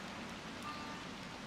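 Rain falls in the video game Wild Hearts as a soft, steady hiss of faint, continuous rainfall with no distinct drops or speech.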